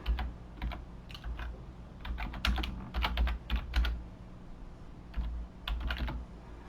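Someone types on a computer keyboard, entering an organization name while setting up accounting software; bursts of quick, close key clicks come in clusters with short pauses between them.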